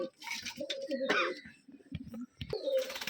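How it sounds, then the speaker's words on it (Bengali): A pair of colour-matched pigeons coo in low, throaty rolling phrases close by, the calls coming in bursts separated by brief pauses. "কালার ম্যাচিং দুইটা কবুতর মাশাল্লাহ অনেক সুন্দর কবুতর দুইটা"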